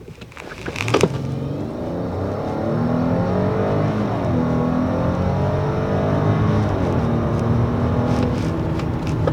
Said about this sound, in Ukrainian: Ми зараз подивимося, за скільки секунд набере ця машина першу сотню